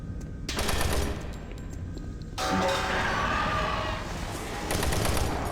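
Loud sustained bursts of automatic gunfire from shooting a zombie in Doom 3, coming in several long stretches separated by brief pauses, with a harsh roaring game din and no talking.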